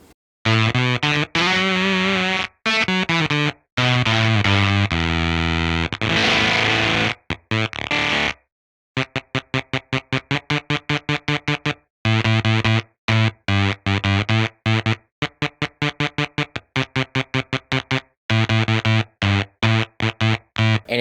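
An electric guitar runs through the Bit Crusher drive on an Axe Fx III, giving harsh, gritty, digitally crushed chords and choppy rhythmic stabs, loud and close, with brief silences between bursts.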